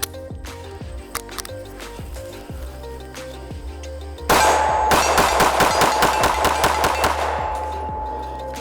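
A SIG P365 XL handgun with an Icarus PMM aluminum frame, long slide, compensator and optic fires a fast string of loud, sharp shots in even succession, each ringing out close to the microphone after a few seconds of quieter handling sounds.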